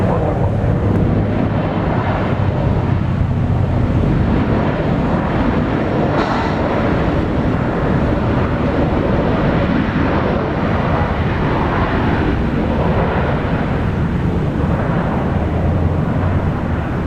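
Korean Air Boeing 787 Dreamliner at Brisbane Airport, a steady broad jet roar with buffeting wind noise on the microphone, holding at a constant loudness throughout without any clear approach or fade.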